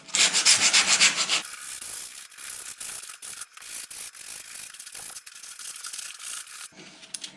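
A hand holding a scrap of 80 grit drum sander paper rubs back and forth on a workpiece nearby, starting with loud harsh strokes and continuing with quieter, rhythmic scratchy passes.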